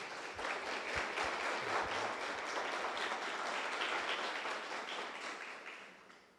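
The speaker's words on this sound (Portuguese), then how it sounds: "Vamos aplaudir a palavra de Deus." A church congregation applauds at an evening Mass, a dense, even wash of many hands clapping that fades toward the end, with no speech over it.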